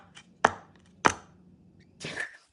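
Foley footsteps in wooden shoes: two sharp, hard wooden clacks about half a second apart, then a softer scraping step, close and dry with no talking.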